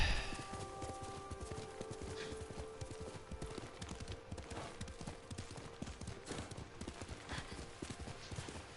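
Horse hooves clip-clop steadily at a riding pace in the video game Ghost of Tsushima, a continuous rhythmic gait over a faint ambient background, with no talk.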